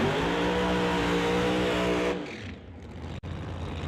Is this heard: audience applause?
no